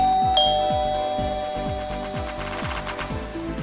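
A house doorbell chimes once sharply near the start, its ringing tone fading out while a busy rhythmic background of repeated thumping beats continues loudly underneath.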